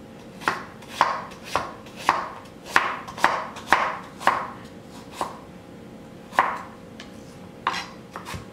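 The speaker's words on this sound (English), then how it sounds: "You want to dice your apples small." A knife dices apples on a cutting board in crisp, distinct chops, about a dozen sharp knocks in an uneven rhythm with short pauses, close and clear with no talk.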